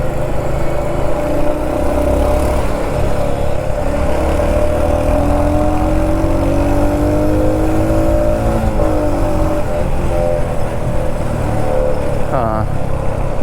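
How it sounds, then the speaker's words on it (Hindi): Royal Enfield Hunter 350 motorcycle riding on a road, its engine drone mixed with a harsh rattle from an added crash guard and under plate, loud and continuous with traffic around and a rider talking over it. "मॉडिफिकेशन के चक्कर में हमने जो इसके नीचे ये क्रैश गार्ड और प्लेट लगवाए हैं, उसकी इंजन के साथ मिलकर के बहुत ही गंदी आवाज़ आ रही है।"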